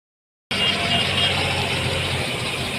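A car engine idles steadily, heard from inside the car, a low even hum with faint road noise and no voices.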